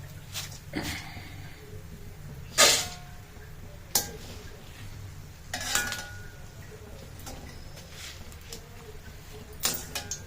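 Boondi frying in hot oil in a pan gives a steady, close sizzle, broken by a few sharp scraping and clinking strokes of a utensil against metal.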